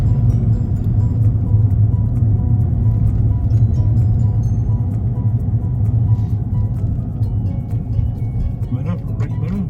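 A car driving on a road toward a series of roundabouts, heard from inside: a steady low engine and road rumble, loud and continuous, with someone talking over it throughout.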